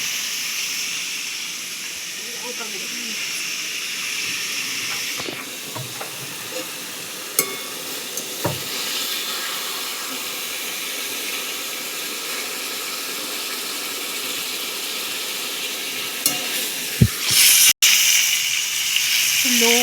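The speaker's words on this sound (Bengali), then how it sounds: "লো ফ্লেমে ভালো করে কষাতে হবে।" Chicken chaap masala being sautéed over a low flame, with a steady soft hiss and sizzle, occasional scrapes and clinks of a spoon against the pan, and a louder clatter near the end.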